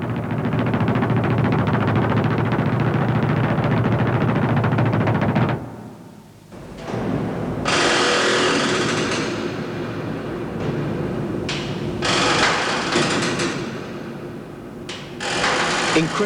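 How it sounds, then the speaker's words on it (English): The grounded ship Co-op Marine grinds on a reef, her hull plates dragged back and forth by the swell in loud, sustained scraping and rumbling, broken by short lulls and rising surges of harsh metallic noise. "that's the sound of the Co-op Marine's tortured hull plates being dragged backwards and forwards by the swell across the reef where she's run aground"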